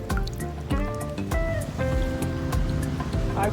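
Ocean waves wash and splash close by, a continuous churning surf with bubbling, trickling water throughout and no speech.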